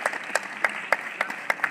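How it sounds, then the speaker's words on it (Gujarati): Audience applause at an Independence Day school or community function, bursts of clapping rising and falling in waves, moderately loud and continuous with no talk over it. "ભાઈઓને તાળીઓથી વધાવી લો"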